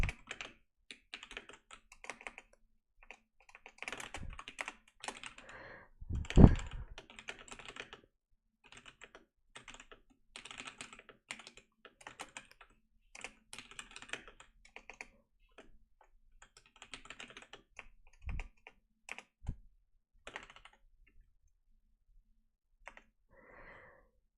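Typing on a computer keyboard during a live stream: irregular bursts of close, soft key clicks with pauses between, plus a single louder thump midway and no talking.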